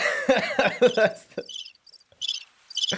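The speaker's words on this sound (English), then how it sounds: "Is that crickets?" Crickets chirp in short bright bursts with gaps between them, moderately loud, following a stretch of people talking.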